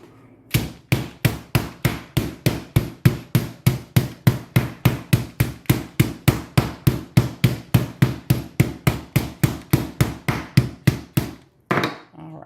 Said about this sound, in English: I think we're going to smack it out a little bit more here.